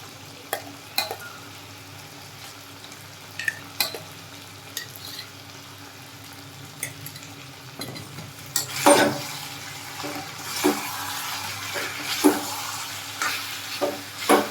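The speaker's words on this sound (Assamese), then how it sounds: "তাৰ পাছতে গোটেইখিনি মই ভালদৰে এনেদৰে মিহলাই লৈছোঁ" Chicken curry with ground spice paste and skunkvine leaves being stirred in a pan, a soft sizzle underneath with intermittent scraping and clinking spoon strokes growing busier toward the end.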